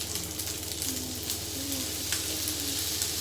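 Rice sizzling on a hibachi griddle with soy sauce and a touch of teriyaki, a steady close crackling hiss that runs unbroken throughout with a faint low hum beneath.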